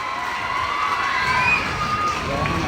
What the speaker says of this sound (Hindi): दोनों हाथ ऊपर करो और जोरदार ताली बजाकर लोकार्पण का आनंद ले।